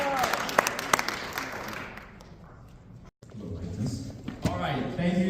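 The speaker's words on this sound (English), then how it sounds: "A round of applause." Audience applause for a speaker at a talk event, with bursts of clapping and cheering voices that die down midway, then swell again with more shouting and clapping.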